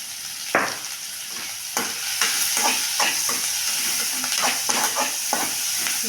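Onions sautéing in a pan, a steady soft sizzle broken by repeated scraping stirs of a spoon, close and moderately loud, with no talking.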